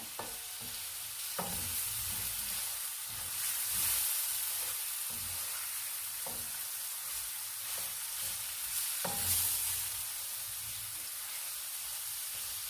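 Shrimp fry gently in a pan for a pomelo curry, a constant bright sizzle with occasional stirring scrapes and clinks, no voices over it.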